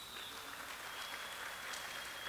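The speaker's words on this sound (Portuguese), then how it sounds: "Teve até salva de palmas hoje," Applause in a church: a faint, distant, steady patter of many hands clapping fills the whole stretch, with no one speaking.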